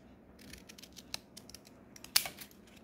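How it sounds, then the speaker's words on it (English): Scissors cut through a pack of plastic bags: a few quiet, close snips and rustles, ending in one sharper, louder cut. "And what I do is I cut it right here."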